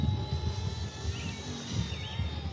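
Small Eachine E120 scale BO105 RC helicopter flying forward in its second speed mode for a close flyby, a steady droning rotor and motor whine with a high tonal buzz, held at an even level throughout without talk.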